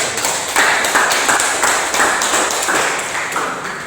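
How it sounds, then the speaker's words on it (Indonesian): A small group in a classroom discussion session claps for the first group, a dense, steady patter of hands lasting a few seconds, fairly loud and close with no talk over it. "kita berikan tepuk tangan untuk kelompok 1"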